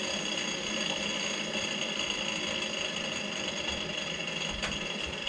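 Husqvarna 235 chainsaw on half choke in a shop, its small engine sputtering in a fast, uneven buzz that keeps trying to catch, steady and fairly close.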